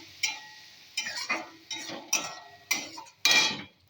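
A spoon clatters against a pan while spice paste is stirred and fried, six distinct scraping knocks spaced about half a second apart, fairly close and alone.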